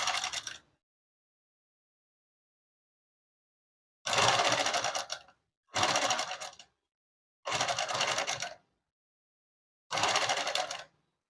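Sewing machine stitching a dress, running in four loud, close bursts of steady rapid mechanical whirring about a second long each, separated by brief silences, after an opening burst and a long quiet gap, with no voices.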